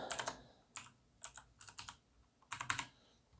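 Password being typed on a computer keyboard: quiet clusters of quick, close key clicks come in short bursts separated by brief pauses.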